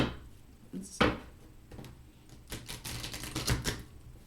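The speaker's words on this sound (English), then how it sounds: "I'm going to shuffle." Oracle cards are shuffled by hand at close range, with a sharp riffle near the start and then a run of quick, crisp flicks and taps in a quiet room.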